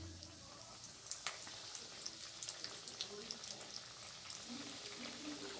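Flattened rice (chire) cutlets fry a few at a time in lightly heated oil on a gas stove, giving a soft, steady sizzle with small scattered crackles and pops throughout.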